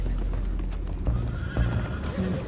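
Horses' hooves clip-clopping in Red Dead Redemption II, a dense run of close hoofbeats with a neigh or whinny breaking through partway, and no talk over it.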